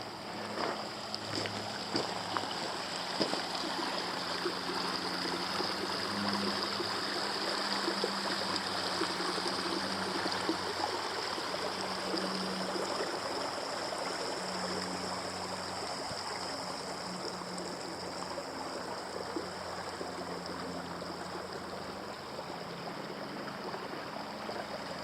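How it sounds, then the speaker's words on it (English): A babbling creek with running water at a backcountry campsite near Broken Top, Oregon, a steady, continuous rushing and gurgling that stays fairly even and moderately distant, with no talking. "babbling creek, good running water."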